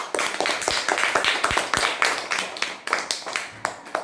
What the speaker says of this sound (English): Let us thank her with a clap.